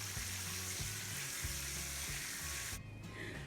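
Cocoa frying in hot oil with a steady, loud sizzle and crackle that runs without pause, then drops away sharply near the end as if the heat or stirring changes.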